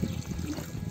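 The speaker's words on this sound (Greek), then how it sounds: "ρίξε κι άλλο νερό" Water splashing and trickling as it is poured outdoors to flush a large Greek lizard, Lacerta trilineata, out of its hiding place; a short, continuous close pour.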